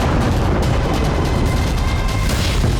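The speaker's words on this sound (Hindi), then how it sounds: "दूसरा धमाका," Blasts from a Hezbollah attack on Israel's Ramat David airbase form a continuous, loud, low roaring rumble with no pauses, heavy and dense throughout.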